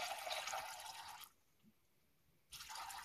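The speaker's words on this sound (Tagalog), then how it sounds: "Tapos, lagyan natin ng tubig." Water runs into a cooking pot of peanuts, bananas, corn and sweet potatoes in a steady splashing pour, pauses for about a second, then resumes.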